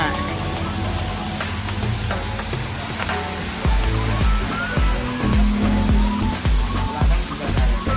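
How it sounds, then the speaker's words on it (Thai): A waterfall in front of a garden cafe gives a steady rush of falling water, close and continuous, with light clatter and voices in the background. "มีน้ำตกอยู่ทางด้านหน้า"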